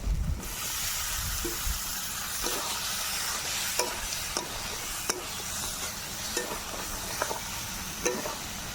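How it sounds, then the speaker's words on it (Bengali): Fried potatoes and raw eggplant go into a sizzling koi fish curry in a pan, a continuous loud hiss of frying with scattered sharp clinks and scrapes from stirring. "এবার এর মধ্যে দিয়ে দেব ভাজা আলু, আর একই সঙ্গে দিয়ে দেব বেগুন, কাঁচা বেগুন।"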